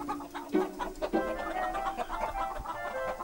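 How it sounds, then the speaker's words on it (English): Chickens cluck close by in short, varied calls, a couple of louder squawks standing out over a soft, busy background. "So the chickens were unloaded."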